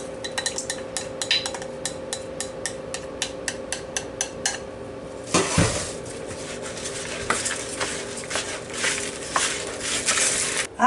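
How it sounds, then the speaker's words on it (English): A fork beats an egg in a mixing bowl for a turkey cranberry meatloaf mixture: about four seconds of quick, steady tapping against the bowl, then wetter, heavier stirring and squishing with a few sharper knocks, close and clear with no talking. "Beat that up just to mix it together just a little."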